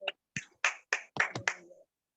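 A congregation at a Hindi Christian worship service claps to welcome the word of God: a short run of about seven crisp, fairly quiet claps in an uneven rhythm that stops after under two seconds.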